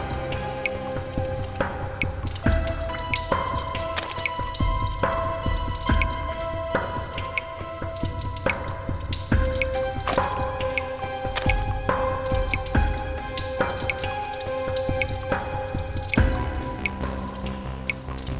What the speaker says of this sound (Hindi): पानी कहां से टपक रहा है?